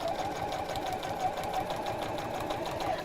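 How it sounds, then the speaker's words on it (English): A sewing machine runs steadily for about three seconds, stitching fabric close along a cord on an existing stitch line while making a bag-style caddy; a continuous close, even whir with no talk. "Try not to sew through the actual cord, but we are sewing quite close to it, just along that existing stitch line."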